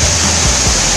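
A water shower spraying over African birds at Animal Kingdom, a loud, close, continuous hiss of falling spray with no talk over it.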